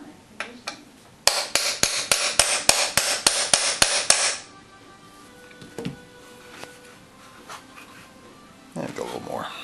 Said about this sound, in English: We are going to take our barrel pin, set that back in there, give it a couple of good whacks.